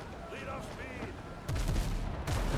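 Cannons on a ship in a pirate video game boom in two loud bursts midway and near the end. Faint whistling and game sounds come before them.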